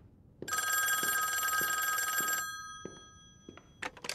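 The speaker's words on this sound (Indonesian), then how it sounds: "Adegan selanjutnya adanya telepon dan frontman mengangkat telepon tersebut" Telephone bell in a Squid Game scene rings loudly and steadily for about two seconds with a bright metallic trill, then cuts off, leaving faint soft taps and rustling.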